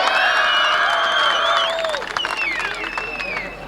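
A grandstand crowd at a 1987 short-track match race at Raceway Park in Shakopee, Minnesota, cheers and applauds loudly, the roar fading a little toward the end with scattered whoops.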